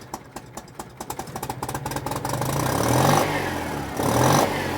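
The rear engine of a twin-engined Citroen 2CV 4x4 Sahara is started: rhythmic starter cranking builds for about two seconds before the engine catches, then it runs with a rough, close rasp and two blips of revving.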